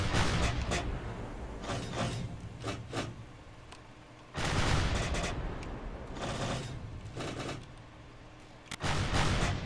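Ship cannons fire in the naval video game From the Depths, heavy booming blasts in several bursts over a constant rumbling battle din.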